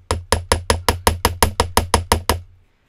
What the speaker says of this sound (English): next thing I'm going to use is a riveting hammer.